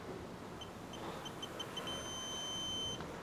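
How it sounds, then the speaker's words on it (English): Faint electronic beeping from a torque wrench tightening coilover nuts on a 1967 Camaro: a few short high beeps in a row, then a longer sustained tone, quiet against background hiss. "Get your torque wrench, and let's get it to 75. I use one that beeps"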